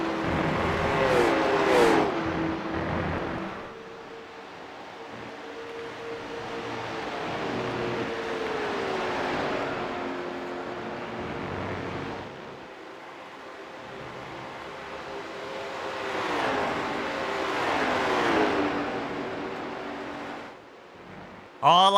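Late model race cars lapping a road-course racetrack during a Late Model Tour race, their engine drone continuous and fairly loud, rising and falling as cars pass, with the pitch sweeping through gear changes.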